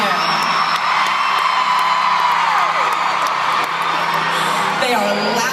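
A concert crowd in Edmonton cheers loudly at a tour show, a dense sustained roar of whoops and yells that stays near full volume throughout.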